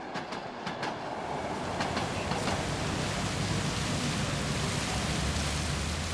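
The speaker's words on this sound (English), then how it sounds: "our train has reached its last stop in Russia, Ulan-Ude" A private Trans-Siberian train pulls into Ulan-Ude station in Russia, a steady loud rumble of wheels and carriages with faint rhythmic clicks, no voices.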